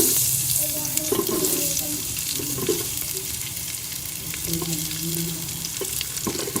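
Onions fry in ghee for a homemade tinday gosht, a steady close sizzle with a few scrapes and clinks of stirring running through the whole stretch, no talk.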